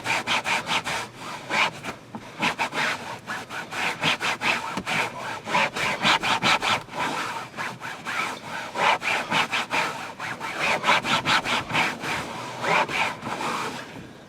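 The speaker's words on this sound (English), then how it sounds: "Turn over to another clean side of the microfiber towel and just mop up." Microfiber towel scrubbing grease from a fabric car seat, a rapid run of close rasping strokes in steady back-and-forth rhythm, loud and continuous with short pauses.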